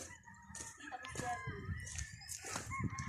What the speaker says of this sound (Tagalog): Kadaming mga manok.